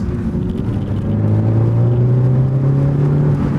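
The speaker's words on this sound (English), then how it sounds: "Now start rolling on the gas." A stock 2018 Ford Focus ST accelerating on a track, its engine rumbling loudly with a rising drone as the revs climb steadily, heard from inside the car with no talk.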